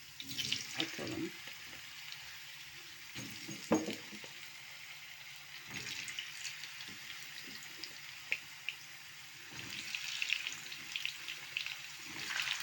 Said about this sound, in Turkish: Evet, yağımız kızmış. Patateslerimizi atalım.